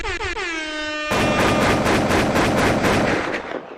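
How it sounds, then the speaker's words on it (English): An air horn blares with a sustained harmonic tone, then gives way to a loud, dense burst of rapid gunshot-like cracks that continues for a few seconds before tailing off. "Gunshots."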